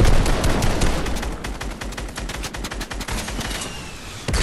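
Rapid gunfire crackles in a video game firefight, bursts of automatic fire rattling almost continuously, loud and close, with no voices heard.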